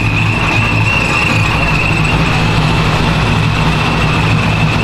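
A Honda Civic Si engine idles close by with an aftermarket exhaust, a steady loud low drone carrying a sustained high-pitched whine throughout, with no talking.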